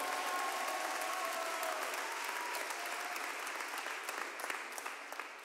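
A church congregation claps together during a sermon, a steady mass of handclaps from a large room that keeps going throughout and thins slightly near the end.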